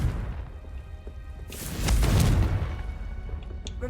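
A Confringo spell explodes in Hogwarts Legacy. A single deep, muffled boom swells up about halfway through, then fades over a low ambient rumble, with no voices.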